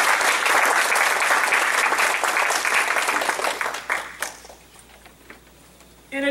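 Dense audience applause at a Toastmasters district spring conference welcomes a speaker, holding strong for about four seconds, then thinning to scattered claps and fading out.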